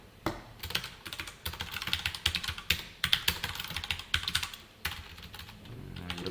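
Close, quiet clicking of a computer keyboard as code is typed, in fast irregular bursts with brief pauses, no one speaking.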